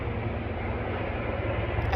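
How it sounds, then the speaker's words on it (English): A helicopter passes overhead with a steady, throbbing low rumble and broad rushing noise that stays fairly constant and moderately loud for a couple of seconds. "sorry for the helicopter"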